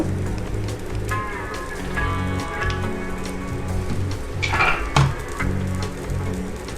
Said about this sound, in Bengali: এবার ডিমটাকে ভেজে নেব।